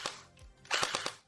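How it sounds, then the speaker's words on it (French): A gel blaster, an MP7, M4A1 or DGR-LEI, fires a quick burst of three sharp snapping shots close by, standing alone after a faint earlier shot. "Lorsque vous appuyez sur la gâchette, cela fait 3 tours."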